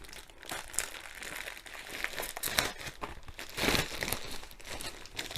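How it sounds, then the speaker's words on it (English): Cardboard packaging being torn and pulled off a diamond painting kit box, a close, continuous crinkling and ripping that swells and fades over a few seconds with no talk. "So we'll take the rest of the packaging off."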